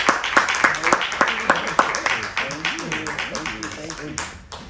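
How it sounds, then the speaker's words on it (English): Audience claps for a guest at a post-film Q&A in a cinema, a few sharp, fairly close claps at first, then thinning as a voice talks over them. "Let's give a round of applause for her,"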